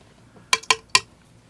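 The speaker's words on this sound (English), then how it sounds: "Sometimes I make a lot of noise with my water bucket there." A watercolour water bucket clanks while someone paints. Three sharp, bright clinks sound in quick succession, close by, against quiet surroundings.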